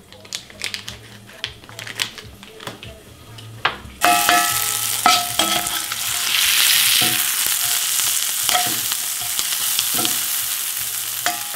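Eggs hit hot olive oil with a little butter and break into a loud, continuous sizzle, cutting in suddenly after quieter clicks and scraping, with occasional sharp taps over the steady frying; a brief spoken word is heard.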